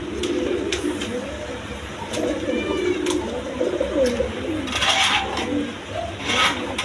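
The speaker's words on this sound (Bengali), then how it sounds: "ডিম বাচ্চা করানো কবুতর অবশ্যই নিতে পারেন" Pigeons, pairs kept for breeding, cooing repeatedly in soft rolling calls over a steady background hum, with some sharper chirps and noisy bursts near the end.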